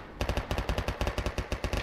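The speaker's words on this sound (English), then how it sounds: "I can't hear you over the sound of gunshots and freedom happening literally behind me" Rapid automatic video game machine gun fire in the game co_43 Russian Goliaths, a steady stream of sharp bursts about eight per second, loud and close, with no voices.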